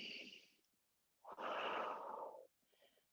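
Slow breaths during a yoga practice: a soft exhale fades out, then after a pause comes a long, fuller breath, followed by a fainter one, all close and quiet with no talking.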